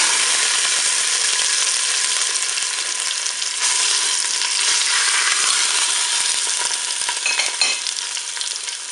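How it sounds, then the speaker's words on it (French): A roast browns in hot oil inside a Cookeo multicooker pot, giving a steady, close, loud sizzle and crackle with small pops throughout and no voices. "Le préchauffage est terminé, je vais pouvoir faire revenir mon rôti."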